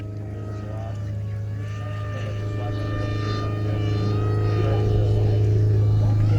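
A radio-controlled model airplane with its elevator and rudder servos reversed flies with a steady buzzing motor drone that swells slightly louder as it goes, continuous and unbroken.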